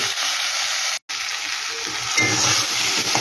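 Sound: frying Kashmiri chilli powder in oil

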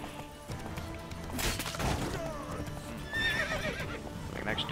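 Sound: horse neighing in video game The Witcher 3

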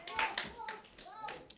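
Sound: congregation clapping hands

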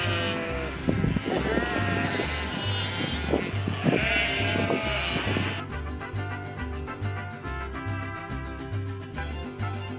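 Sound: sheep bleating to find its flock

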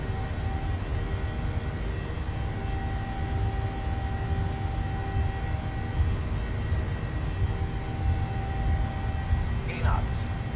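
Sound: Boeing 737 engines at takeoff, Microsoft Flight Simulator video game

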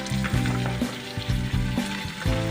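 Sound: frog meat frying in a pan with garlic, onion and ginger

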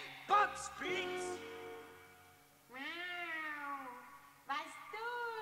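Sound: actor imitating a cat meowing in a radio play

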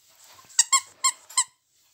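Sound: squeaky dog toy squeaking

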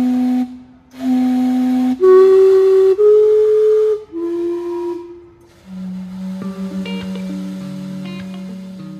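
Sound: Gastown steam clock whistling at noon, Vancouver

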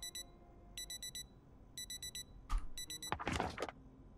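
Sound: alarm ringing in the video game Project Zomboid

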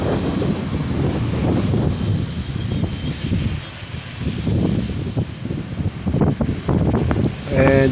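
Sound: strong wind in trees

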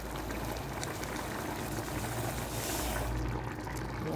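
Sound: coconut milk and water boiling

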